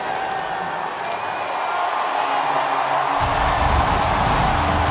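Loud, dense roar of a packed stadium crowd ahead of kickoff between No. 1 Alabama and No. 11 Florida, a broad continuous wash of cheering that swells with heavier low rumble partway through, steady and close with no clear talk.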